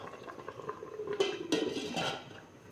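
A lid clattering onto a pot of simmering coconut-milk tuna stew, a few close metallic knocks and scrapes over a soft bubbling simmer, no voices.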